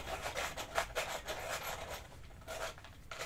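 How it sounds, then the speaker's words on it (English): A blue pencil crayon turns in a bent handheld sharpener, giving soft repeated scraping rasps close up, uneven in rhythm and fairly quiet, with no talking. "I can then choose a darker blue. Just need to sharpen it."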